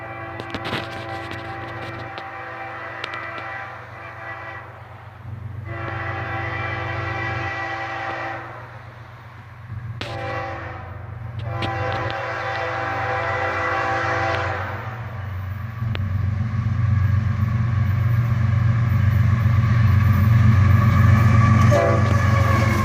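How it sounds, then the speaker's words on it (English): A four-locomotive coal train led by an ES44AC-H sounds its horn in several long, loud blasts with short gaps, the chord ringing over the rumble and clatter of rolling freight cars that grows louder toward the end. "a nice little horn salute from the engineer there on this awesome 4-locomotive coal drag with an ES44 ACH leading"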